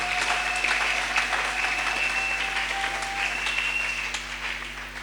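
A church congregation breaks into sustained, steady applause that fills the room for several seconds, with a faint held tone ringing underneath before the clapping tapers slightly at the end.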